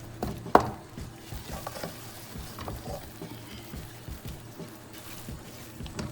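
Jaggery (gur) melts in a pan over a low flame, giving a faint, soft crackle and sizzle with scattered stirring scrapes and one sharp clink near the start.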